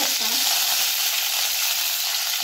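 Mustard seeds, cumin and curry leaves crackle in hot oil for a tempering, giving a close, steady, bright sizzle and spatter that runs unbroken with no talking.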